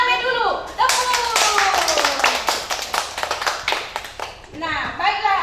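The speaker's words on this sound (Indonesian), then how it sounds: "tepuk rame dulu. Tepuk." A class of children clapping together in rhythmic patterned bursts, fast sharp claps near and loud, opened and closed by a teacher's voice speaking.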